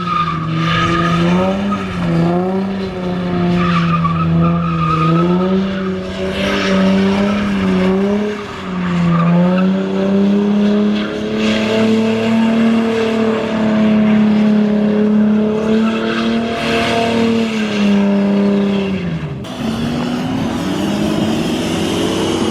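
A car drifting at high rpm, its tires squealing in long sustained screeches over a rising and falling engine note, loud and close, ending with a sharp shift in tone near the end.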